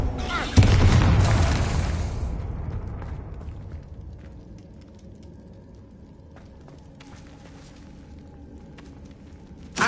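A single loud explosive burst from the Confringo spell in Hogwarts Legacy, an abrupt boom with a rumbling tail that decays over a couple of seconds, followed by quiet ambience and a faint thump at the end.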